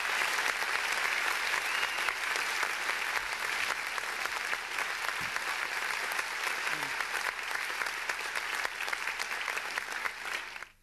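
Audience applause greets a performer and the mayor of Beauvais on stage at the opening of an evening event, a dense, steady sustained clapping that holds for about ten seconds before tapering off at the very end.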